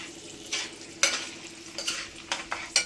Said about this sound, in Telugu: ఇప్పుడు కొంచెం కరివేపాకు కూడా వేసుకోవాలి, మంచి స్మెల్ వస్తుందండి.